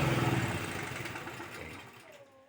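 A diesel generator set rumbles steadily after a warm-up, then its drone gradually drops in loudness and winds down toward the end.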